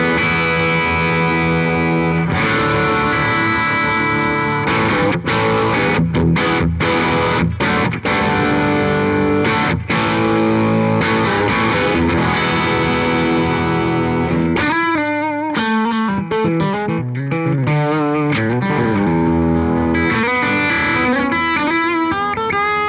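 Electric guitar played through a Victory V4 Sheriff amp on its Vintage channel, a loud, continuous run of sustained chords and notes with driven tone, shifting to quicker picked phrases partway through, with no talking.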